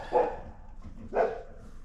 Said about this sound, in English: my dog freaking out